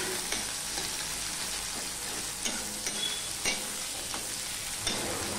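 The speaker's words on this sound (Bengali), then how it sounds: "এই পেঁয়াজটুকু আমি দিয়ে দিলাম" Chopped onion frying in a pan for a bottle gourd dish, a steady dense sizzle throughout with a few faint taps of a spatula, close and even, no talking.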